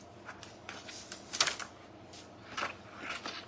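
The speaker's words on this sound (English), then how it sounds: "This mat is so sticky and so new that it doesn't matter which way I peel it." Paper stickers peeled off a new, very sticky cutting mat, giving soft crackling tears and rasping bursts in several short uneven pulls, close and quiet.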